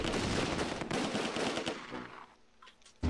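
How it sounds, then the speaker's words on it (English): Machine gun fire in the war strategy game Close Combat II, dense rapid bursts of shots close and loud for about two seconds, then tapering into scattered fainter cracks. "So we're going to open up with these MGs, see if we can get some kills."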